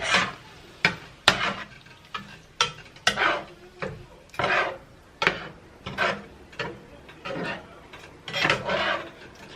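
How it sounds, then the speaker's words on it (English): Tomato sauce for lasagna is stirred in a pot on the stove, making a rhythmic series of scraping, rasping strokes roughly once a second, close and fairly loud over a low bubbling background with no voices. "I'm gonna mix it all up and turn my fire down before it burns"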